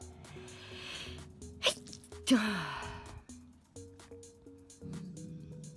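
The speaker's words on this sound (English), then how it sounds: "I think I'm sneezing" A sharp, sudden sneeze bursts out once, then a second forceful burst follows with a trailing breathy exhale, over a quiet room with a faint hum.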